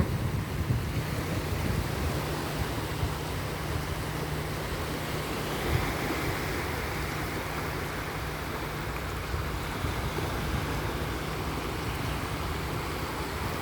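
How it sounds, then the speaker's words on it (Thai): Ocean waves break on a Hong Kong shoreline in the evening, giving a steady, full wash of surf with soft rolling swells and some wind buffeting the microphone, continuous for the whole stretch with no voices. "ชายทะเลฟังเสียงคลื่นไปด้วยนะคะ"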